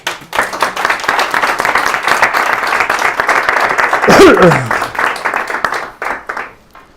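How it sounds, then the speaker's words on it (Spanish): A conference audience applauds a speaker with loud, sustained clapping from many hands that swells through the middle and tapers off near the end, a brief whistle-like tone cutting through partway. "Un aplauso para él."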